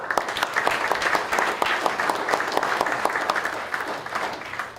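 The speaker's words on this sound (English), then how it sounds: "just a round of applause for buying the car" A room of people at a new owners' meeting breaks into steady, dense applause for the car buyers, many hands clapping close and loud with no voices for the full stretch.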